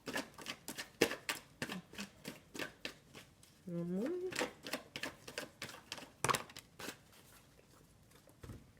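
Tarot cards are shuffled in rapid, crisp riffling bursts close up during a Sagittarius yearly reading, with a short voiced sound partway through.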